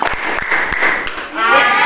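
A group of students in a classroom claps a rhythmic clapping game, with sharp, spaced claps in short bursts mixed with voices.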